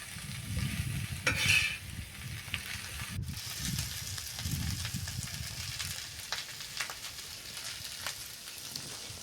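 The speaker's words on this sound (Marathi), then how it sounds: "आता मीठ हे व्यवस्थित असं हलवून घ्यायचं आहे म्हणजे ते मीठ व्यवस्थित मिक्स होईल" Potato chutney is stirred in a pan after salt goes in, soft repeated scraping and mixing sounds over a light sizzle, close and quiet, without speech.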